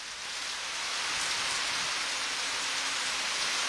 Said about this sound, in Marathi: तुझ्या बोलण्याच्या पाठीमागे जो पावसाचा आवाज येतोय